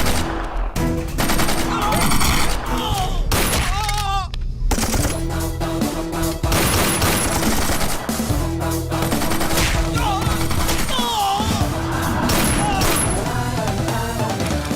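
Bursts of gunfire from a dubbed Hindi-language South Indian action movie rattle loudly and densely over a busy soundtrack of music and effects, with shouting voices mixed in.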